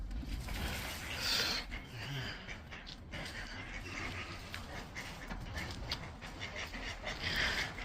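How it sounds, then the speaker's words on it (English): A duck quacks by the water in Hungerford, the calls faint against steady outdoor wind and ambient noise, with a couple of brighter bursts. "Duck's getting some early lunch."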